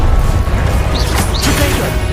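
A Confringo fire-blast spell from Hogwarts Legacy, loud and close, giving a few short bursting impacts over a dense, continuous game soundscape, with no talk.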